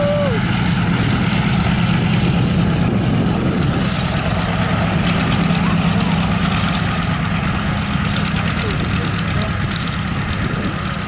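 A World War II propeller aircraft engine runs steadily at an air museum's wartime weekend, a constant loud droning rumble with crowd noise and faint voices in the background.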